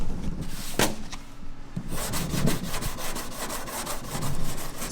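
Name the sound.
sanding primer on a car body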